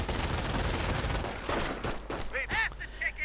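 MG42 machine gun fire in a World War II strategy video game match, a quick rattling burst early on, then scattered battle sounds with someone talking over them.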